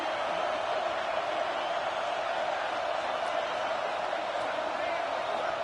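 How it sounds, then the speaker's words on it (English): A stadium crowd at a Texas vs Georgia college football game roars in a steady, even wash of cheering, loud and constant with no distinct peaks. "Listen to the crowd energy here in the early going."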